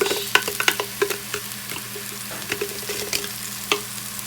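Vegetables sauté in a hot pan with a steady sizzle, broken by sharp clicks and scrapes of stirring, close and moderately loud, with no talking.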